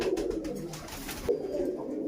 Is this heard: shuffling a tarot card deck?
no